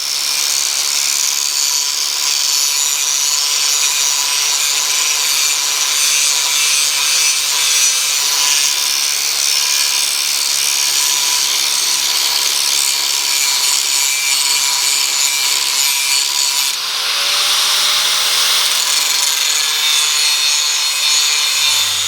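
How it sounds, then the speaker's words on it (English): Angle grinder working a froe blade clamped in a vise, a loud continuous high-pitched grinding whine that holds for the whole stretch and shifts briefly as the pressure changes near the end. "so I can grind one side, flip it over, grind the other side real easy"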